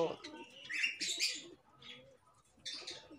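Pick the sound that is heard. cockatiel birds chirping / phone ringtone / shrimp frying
cockatiel birds chirping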